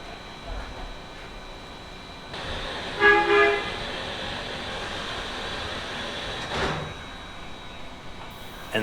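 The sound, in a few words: Polar Express train whistle signaling departure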